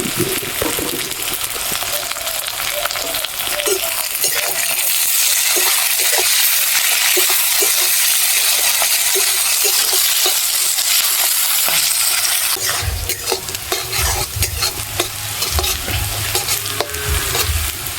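Onions sizzle loudly in a pan while being stirred, with continuous frying hiss and repeated scraping and clattering of a spatula, and heavier stirring noise near the end.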